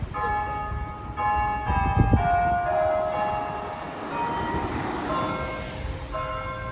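Several bells ring with sustained, overlapping metallic tones, jingling and fading over a rumbling background of outdoor noise on a hiking trail in Shenandoah National Park.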